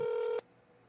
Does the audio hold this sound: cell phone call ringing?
yes